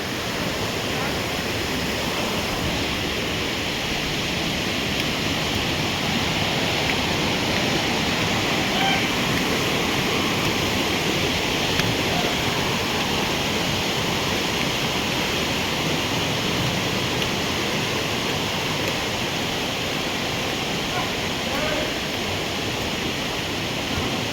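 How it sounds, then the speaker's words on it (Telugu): Heavy water rushes beside a bridge at Ahobilam in a loud, continuous roar that holds steady throughout with no pauses. "ఇక్కడ వాటర్ ఫ్లోయింగ్ అనేది చాలా హెవీగా ఉంది"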